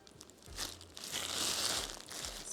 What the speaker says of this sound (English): Plastic bag on the outside.